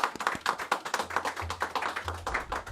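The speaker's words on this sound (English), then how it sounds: "give them a round of applause for their efforts" A small crowd at a televised football chat show claps faintly in quick, uneven bursts of sharp taps, with a low rumble underneath.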